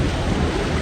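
Amusement park boat ride moving through water, a loud continuous rushing and splashing wash with rumbling low end, close and unbroken, without talk.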